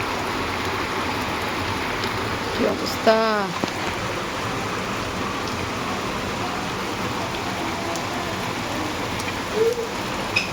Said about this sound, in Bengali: তারপরে এইরকম বৃষ্টি, ভাবা যায়।